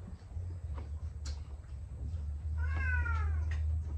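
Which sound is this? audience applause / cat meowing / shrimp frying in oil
cat meowing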